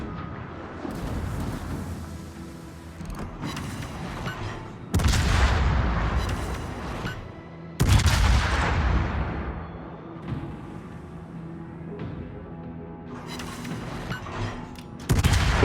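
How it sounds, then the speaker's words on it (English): Heavy naval gunfire from the Soviet battleship Soyuz in World of Warships: a series of deep, loud booming salvos with long rumbling tails, arriving in separate bursts over continuous battle noise. "Soviet Soyuz is still shooting at me"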